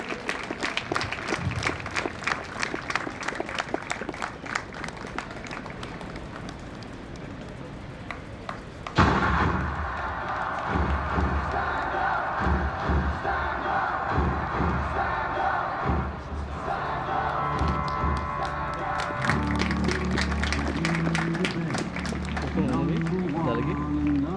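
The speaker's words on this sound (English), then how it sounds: "Applause, ladies and gentlemen." A large crowd at a school athletics meet prize-giving claps and cheers in a sustained wave of applause, with a loudspeaker voice talking over parts of it.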